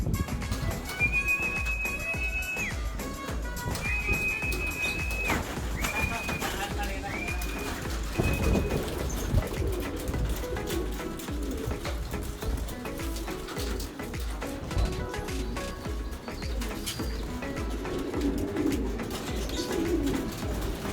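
Homing pigeons coo softly in a loft in Bandung, their murmuring calls mixed with sharp whistles. Someone talks throughout, and other voices join nearby.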